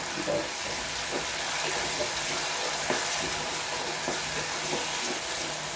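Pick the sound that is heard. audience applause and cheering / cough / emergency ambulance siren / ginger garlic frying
ginger garlic frying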